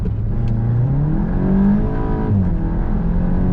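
A Volkswagen Golf GTI Clubsport engine revs up under hard acceleration, pitch climbing then dropping abruptly at quick paddle-shift gear changes before rising again, loud and close from inside the car.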